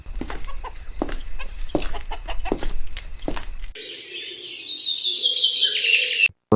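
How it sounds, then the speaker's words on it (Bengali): Cartoon chickens calling at daybreak on a farm, first a run of loud rhythmic clucks and squawks, then a sustained bright crowing-like cry lasting about two seconds before cutting off abruptly, with no speech. "সকালের আলো ফুটলো মুরগিগুলো ডাকতে শুরু করলো"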